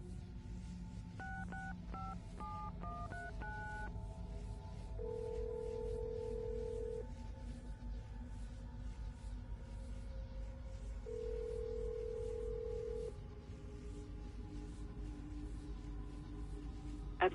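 Telephone keypad tones beep in a quick series of dialing digits in the video game Assassin's Creed Brotherhood, followed by two long, steady ringback tones over a low background hum.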